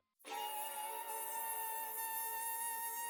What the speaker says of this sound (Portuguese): Mosquitos, pequenos seres, grandes ameaças. Zi, zi, zi, zi, zi.